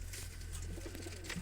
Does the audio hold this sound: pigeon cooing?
yes